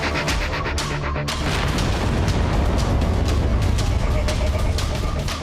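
A powerful explosion erupts into a continuous, loud rumbling roar with crackling bursts that sustain for several seconds.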